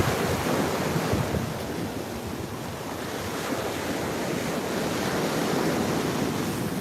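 Surf rolling in at Juno Beach, Florida, a continuous loud wash of breaking ocean waves mixed with gusty wind buffeting the microphone, with no voices.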